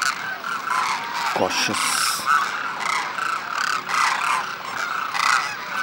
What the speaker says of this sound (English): Demoiselle Cranes.